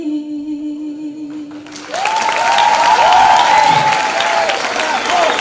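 A crowd applauds a singer at a stage event, the strong clapping swelling in abruptly after a held musical note fades. A voice talks over the applause throughout its second half.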